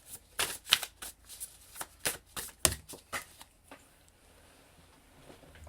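Tarot cards are shuffled in a quick series of crisp riffling slaps and flicks, close and clear, followed by a single card dropping before the handling tapers off into near silence.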